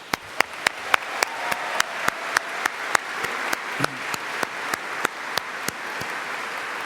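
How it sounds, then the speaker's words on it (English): Audience applause for parents and friends at an architecture convocation ceremony, a steady room-filling patter of many hands with a few sharp nearby claps standing out, continuing for several seconds without talk. "let's give a round of applause to all of the parents and friends"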